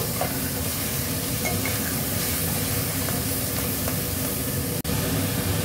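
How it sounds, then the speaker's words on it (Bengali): Mutton stir-frying with bay leaves and onions in a pan, a loud, dense, continuous sizzle and hiss with faint scraping from stirring, close and without talk. "মটন ঢেলে দিয়ে এবার মটন, তেজপাতা আর পেঁয়াজ একসাথে মিনিট 10 একটু নেড়ে নেব।"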